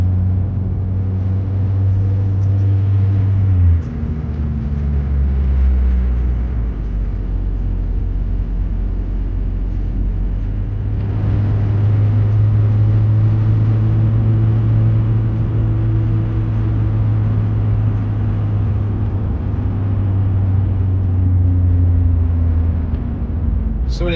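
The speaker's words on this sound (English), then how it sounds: "Looks like we're running into a little bit of a traffic jam here in Columbus," Steady low engine rumble and road noise from inside a car crawling through a traffic jam in Columbus, Ohio, with the engine note dipping and rising as it slows and moves.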